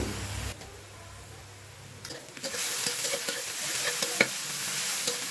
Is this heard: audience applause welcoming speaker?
no